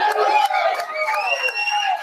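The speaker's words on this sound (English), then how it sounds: "Big round of applause for these guys, everybody." Crowd cheering and shouting at a college basketball postgame show in a bar venue, loud and continuous throughout, with little distinct clapping standing out.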